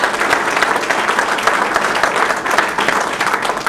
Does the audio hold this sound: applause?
yes